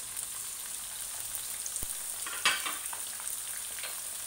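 Chicken and potato curry frying in a pan with green chilies, tomatoes and a ginger-garlic paste, giving a steady soft sizzle with a few stirring scrapes and a brief louder clatter midway.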